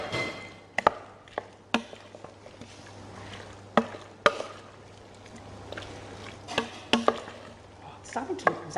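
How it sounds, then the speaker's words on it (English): A spoon stirs a roux-style white sauce for a chicken, potato and leek pie in a pan, giving irregular sharp knocks and scrapes over a low hum, with occasional faint talk. "I'm adding a little bit of time and I'm making sure that it's stirred through"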